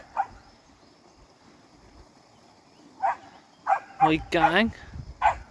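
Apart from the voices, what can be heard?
dogs barking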